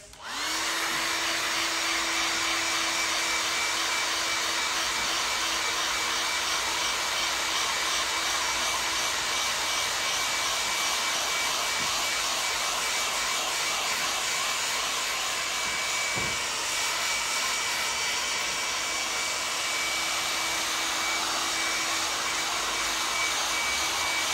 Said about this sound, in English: And then hit that with the hairdryer.